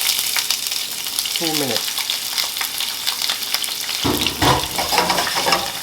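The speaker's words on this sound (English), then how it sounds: "I'm gonna saute my herbs, my vegetables" Herbs and vegetables for Jamaican ackee and saltfish sautéing in a pan, a loud steady sizzle with stirring scrapes, and a voice speaking briefly over the frying.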